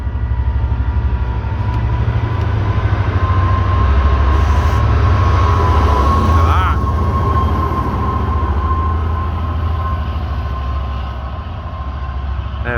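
A train rolls steadily through Ruabon station, loud and close, with a continuous low rumble of wheels and carriages, a sustained tonal whine, and brief metallic squeals partway through.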